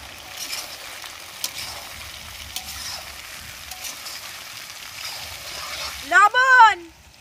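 Soya chunks fry in a pan with a faint, steady sizzle and light crackle. A brief high warbling chirp cuts in near the end.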